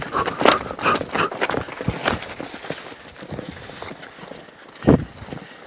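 Young horses' hooves clop on firm ground in an uneven rhythm, fairly close, louder at the start then sparser with a final heavy thud.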